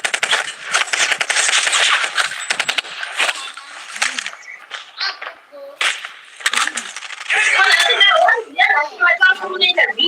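Gunfire in the video game Call of Duty Warzone, loud rapid bursts of automatic fire in repeated volleys with mechanical clicks, mixed with voices talking over the action.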